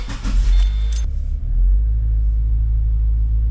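A Subaru car with a newly replaced CV axle drives around the block, its engine and road noise a heavy, steady low rumble heard close from inside, with a short rattle near the start.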